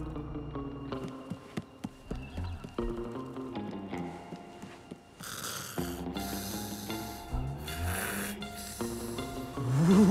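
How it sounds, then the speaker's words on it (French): A sleeping cartoon character snores loudly in a repeated rhythm of breaths, mixed with playful background music and sound effects in a children's animated episode. "l'autre andouille qui ronfle comme un sac"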